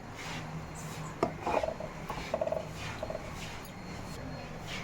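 A spoon stirs tomato sambar in a pot, giving soft, faint scraping strokes in a short irregular cluster over a low kitchen background.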